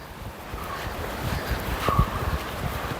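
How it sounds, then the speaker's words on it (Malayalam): A small stream of water flows through a forest setting at Thusharagiri in Wayanad, a continuous broadband rush and wash mixed with breezy noise, fairly close and steady. "ചെറിയ വെള്ളം ഒഴുകി പോകുന്ന സൗണ്ടൊക്കെ ഇവിടെ കേൾക്കുന്നുണ്ട്"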